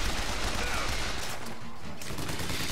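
Dense, continuous gunfire from a Bioshock Infinite battle, a steady loud wash of rapid shots and noise with no clear gaps, running the whole stretch.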